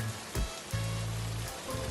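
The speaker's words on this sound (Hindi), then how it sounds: "बारिश हो रही है।" Steady rain patters on a surface in cold weather, a soft, even hiss with a few faint low thumps. No one speaks.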